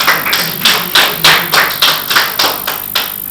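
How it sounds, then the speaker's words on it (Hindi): At a poetry gathering, an audience claps loud and close in a steady, evenly spaced rhythm, about ten sharp claps in a row with no talking. "मेरे स्वागत में पहली बार जोरदार तालियां बजाइए।"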